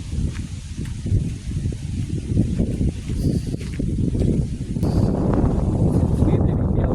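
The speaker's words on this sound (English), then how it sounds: "I'm sure you can hear the sound of the" Strong gusty wind rushes across an open ancient Buddhist temple and monastery site at Anuradhapura, Sri Lanka, a steady low roar with buffeting microphone noise that swells louder toward the end.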